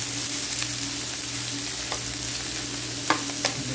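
Chopped onions and green chillies fry in oil in a pan, a steady, close hiss and sizzle with a few sharper pops and crackles near the end.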